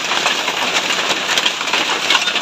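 Steady rain falls outdoors around a hut, a dense, even hiss with scattered drop patter, continuous and fairly close throughout, with no talk.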